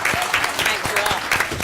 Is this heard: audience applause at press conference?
yes